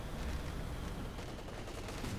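MG34 machine gun fire rattles in a dense, continuous burst amid battle noise in the strategy video game Company of Heroes 2, with no talking over it.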